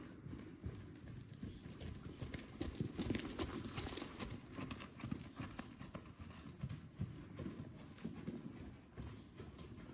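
Horse hooves clip-clop in a steady rhythmic beat at a working trot across a dressage arena, soft and moderately distant with faint background noise.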